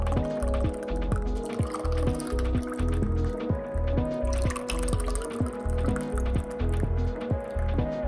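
Orange and apple posset is poured into glass cups, a rhythmic series of thick liquid glugs and drips repeating about twice a second over a steady low hum, with no talking.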